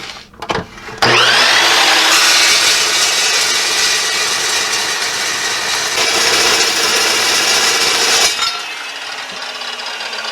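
A cut-off saw slices through a bent metal rod, starting with a short spin-up, then a loud sustained high-pitched grinding whine for about seven seconds before the blade winds down, with no talking.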